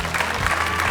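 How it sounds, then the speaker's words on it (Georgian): A television talent show audience breaks into applause in the studio, a brief burst of dense clapping close up with no voices over it. "აპლოდისმენტები"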